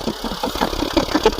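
Tractor engine running as it is driven up onto a truck, a brief close mid-pitched rumbling chug with uneven pulses.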